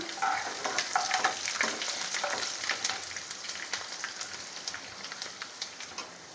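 Chana dal and dried red chillies frying in oil for Guntur gongura pachadi, a crackling, spattering sizzle with rapid pops like light rain and repeated stirring scrapes, steady and close throughout, no talking.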